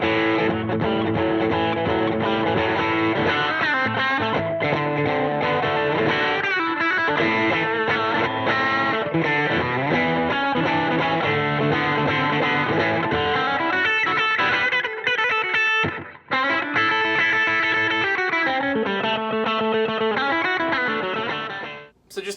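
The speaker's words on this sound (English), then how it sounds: "So just a basic slapback sound." Electric guitar played through an Empress Echosystem delay set to a basic slapback, combined with hall reverb, in an old-school rock and roll style; a continuous, loud run of picked notes with short echoes, heard alone.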